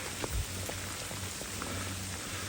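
Rain falls steadily in a dense, even patter on surrounding surfaces, with a few louder drops and a low thud.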